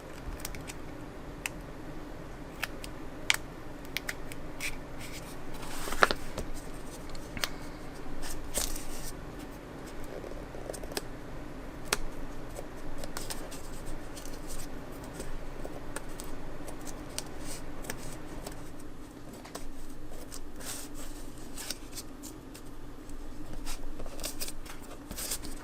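Scissors cutting paper for a pen holder craft: a long run of close, dry snips and crisp paper rustles, scattered and irregular, with soft handling noises and no talk.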